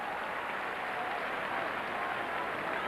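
Football supporters at Bloomfield Road cheer and applaud after Blackpool's equaliser, a steady, broad roar of clapping and crowd noise heard from within the stadium, unbroken and without any voice standing out.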